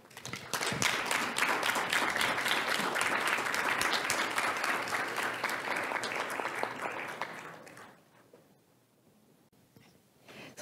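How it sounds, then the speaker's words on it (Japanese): A symposium audience at a Japan–ASEAN 50th anniversary JICA event gives the panelists a sustained round of applause. The dense clapping runs for about seven seconds, then fades into a quiet hall. "皆様盛大な拍手をお願いいたします。"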